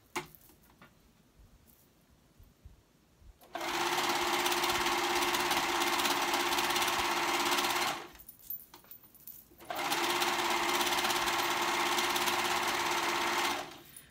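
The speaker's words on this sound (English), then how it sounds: "I'm going to sew this together." A sewing machine stitches a hoodie together in two long steady runs, a loud continuous mechanical whir that stops briefly in between, with quiet handling noises before it starts.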